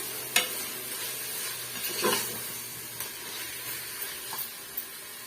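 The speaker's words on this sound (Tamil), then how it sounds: "சேர்த்துட்டு நல்லா வந்து மிக்ஸ் பண்ணி கொடுத்துக்கோங்க அப்பதான் வந்து சீக்கிரமா தக்காளி பழம் நல்லா வதங்கி வரும்" Tomatoes stirred and sautéed in a pan, a soft, fairly quiet frying hiss with a handful of scattered spatula scrapes and taps, no speech over it.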